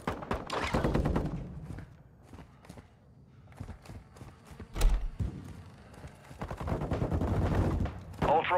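Bursts of automatic gunfire crackle in the Call of Duty Warzone 2.0 DMZ shooter, two loud clusters of rapid shots separated by a quieter stretch with a heavy thump and scattered footsteps.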